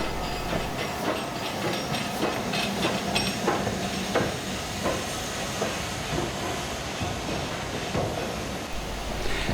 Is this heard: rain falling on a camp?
no